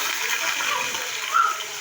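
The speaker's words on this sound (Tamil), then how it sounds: "இப்போ இந்த தண்ணியிலேருந்து எடுத்து உருளைக்கிழங்க எண்ணெயில் போட்டுக்கலாம்" Cut potatoes slid into hot oil for Tamil-style potato fry, giving a steady broad hiss and sizzle throughout with a brief brighter splash near the end, no talking.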